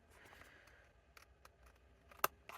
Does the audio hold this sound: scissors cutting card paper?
yes